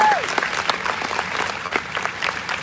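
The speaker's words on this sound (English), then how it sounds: "round of applause for" Crowd applause at a D23 Expo Haunted Mansion panel honouring Marty Sklar, a short burst of many hands clapping close and fairly loud, with a brief voice at the very start.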